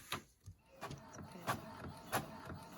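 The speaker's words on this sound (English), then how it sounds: "My printer is really loud, so I apologize." A loud home printer printing onto linen medical tape, a steady mechanical whir punctuated by regular clacking feed strokes roughly every half second.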